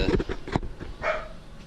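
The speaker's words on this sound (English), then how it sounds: "Of course, the dog's gone crazy." A dog barks in a basement utility room, a few loud, close yelps in quick succession near the start, followed by a higher whine-like tone.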